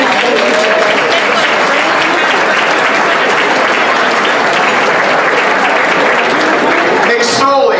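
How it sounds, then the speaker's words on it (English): A dinner audience at a St. Patrick's Foundation event breaks into loud, sustained applause for Bill Clinton, a steady dense roar of clapping that runs without pause, with a voice rising near the end. "We deserve to give Bill Clinton a round of applause."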